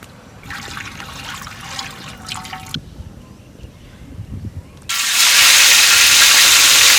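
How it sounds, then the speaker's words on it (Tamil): Cooking oil is poured into a hot pan for quail masala, first trickling and sizzling faintly, then a loud, sustained hiss of heating oil close by. "சட்டி காஞ்சிருக்கு, எண்ணெயை ஊற்றிக்கிறோம்."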